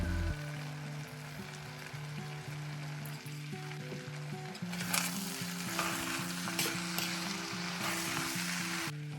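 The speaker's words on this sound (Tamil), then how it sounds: "இதோட கொஞ்சம் க்ரீன் பீன்ஸ், கொஞ்சம் வெங்காயத்தால் வெட்டி வச்சுருக்கிறேன், அதையும் சேர்த்து மிக்ஸ் பண்ண போகிறேன்" Green beans and onions being stir-fried in a pan, a steady close sizzle with repeated scraping and clinking of the utensil against the pan throughout, growing busier and louder partway through, with tonal background music underneath.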